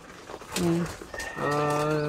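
A pigeon coos in a loft, giving two short tonal calls followed by a longer, steadier coo, with a voice talking nearby.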